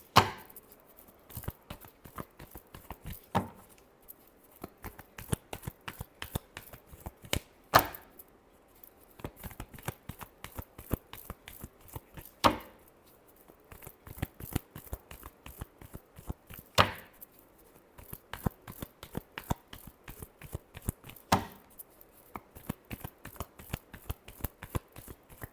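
Tarot cards being shuffled by hand, a steady run of quick crisp riffles and soft slaps close by, with a few louder snaps between bursts and no talking.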